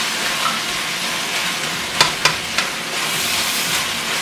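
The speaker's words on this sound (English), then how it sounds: "It's basically frying itself" Carnitas pork fries in its own rendered fat, giving a steady broadband sizzle with a few brief pops or clinks near the middle, with no talking.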